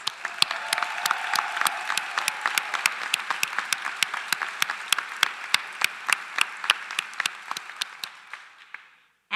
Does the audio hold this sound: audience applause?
yes